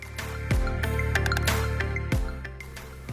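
Chicken curry masala boils in a heavy-bottomed cast-iron pan, with thick wet plops and squelches bursting now and then over a continuous tonal background.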